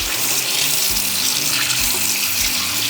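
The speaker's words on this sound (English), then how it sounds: "I'm gonna wash my hand." A kitchen tap runs steadily while a hand is washed under it, a close, constant gush of water splashing into the sink with no talk.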